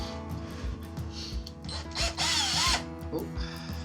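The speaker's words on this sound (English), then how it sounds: "I wonder if I put that in my drill, I can sand it." A power drill spins a cow bone needle held against sandpaper, its motor whirring steadily up close with a louder, grinding surge in the middle and light handling knocks underneath.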